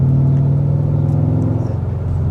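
A Subaru WRX STI with a 330 bhp engine rumbles loud and close, a deep steady throaty drone holding on with slight swells of revs.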